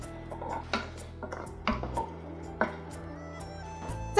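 Chestnuts are tipped into a pot of chicken simmering in water and the lid is set back on, giving a few distinct clinks and knocks of pot and lid over a steady low hum with background music, and no talking.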